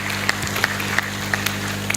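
An audience at a religious satsang gathering claps, scattered individual claps sounding in a loose rhythm over a steady low hum, moderately loud and fairly close.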